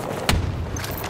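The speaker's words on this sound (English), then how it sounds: "Toss a grenade!" A grenade going off in Battlefield, one loud booming blast early on that fades into a rumbling battle background.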